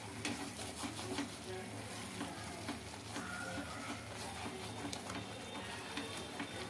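Tomato pieces sizzle and fry in oil in a non-stick pan, a steady crackling hiss with scattered pops and the occasional scrape of stirring.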